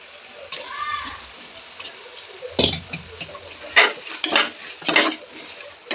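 Chicken being added to a pan and stirred for biryani, heard as a few close clattering, scraping strokes with a light sizzle between them.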